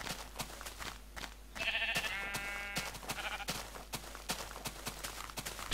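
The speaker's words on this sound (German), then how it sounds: "Schafe immer scheren. Immer mitnehmen, was geht." A sheep in Minecraft bleats once in a drawn-out call amid game noises, with steady rhythmic clicking and tapping from the player's actions around it.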